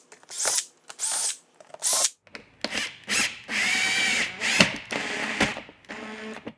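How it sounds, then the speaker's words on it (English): A power drill bores small pilot holes with a 5/64 bit into a Yamaha Drive 2 golf cart body for a light kit, heard as a string of short, close whirring bursts separated by brief pauses. "I use a 5/64 drill bit to pre-drill all the holes"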